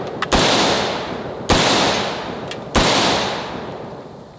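Three loud 5.56 rifle shots ring out about a second apart, each sharp crack trailing a long echoing tail, fired into a container of oobleck.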